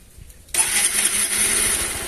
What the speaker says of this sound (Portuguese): O barulho tá macio do motor já